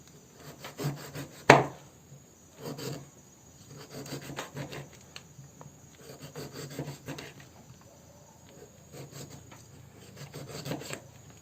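A kitchen knife slicing through a lime (jeruk), set beside work on an heirloom Sulawesi badik blade. Repeated short rasping cuts come in clusters, close and fairly quiet, with one sharper snap near the start and no talking.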